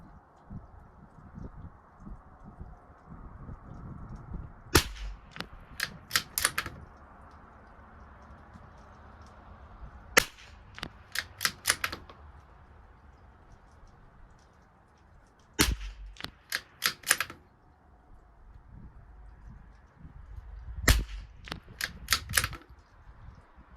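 Rifle shots from a Tikka T1X and a Savage MKII BTV rimfire at a 100-yard range come in sharp cracks, fired in quick clusters of several shots with quiet gaps between groups, with no talking over them.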